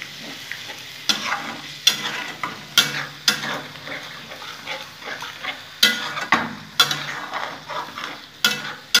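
Masala chicken is stir-fried in a pan, with repeated scraping strokes of a spoon against the pan over a low, continuous sizzle, the stirring coming in irregular bursts about once a second.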